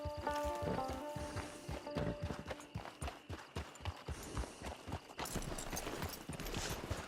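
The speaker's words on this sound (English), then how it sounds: "It's your horse" Horse hooves clip-clopping at a walk with a brief neigh in Red Dead Online, steady rhythmic steps close by over ambient game music and background sound.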